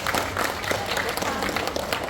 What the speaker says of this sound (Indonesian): Terima kasih Pak Beni, tepuk tangan.